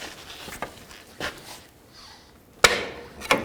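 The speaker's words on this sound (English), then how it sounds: "Now I'm going to take a long pry bar, slip it right behind the axle shaft, and try to pry it out." A long pry bar wedged behind the CV axle shaft of a 2007-2009 Saturn Aura knocks and scrapes in scattered close bursts, ending with a sharp metallic clank and a later knock as the shaft pops free.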